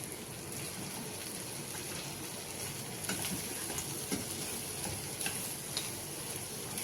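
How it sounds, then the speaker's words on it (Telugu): Spices and chili powder frying in a pan, a steady close crackling sizzle that continues throughout with a few louder pops and stirring scrapes. "ఇప్పుడు ఇక్కడ ఫ్రై అవనిద్దాం"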